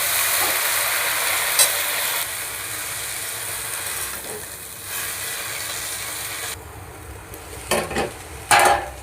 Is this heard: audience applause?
no